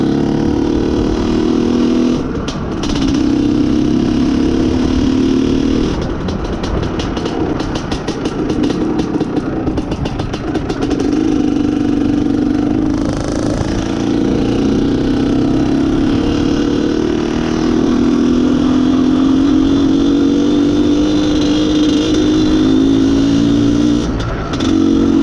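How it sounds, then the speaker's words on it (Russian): A loud, close Izh Planeta Sport motorcycle engine that runs poorly on a lean mixture revs up repeatedly and falls back between blips, with a sustained rising rev toward the end. "Сильно накручивать не надо мотоциклу, чтобы люди не пугались."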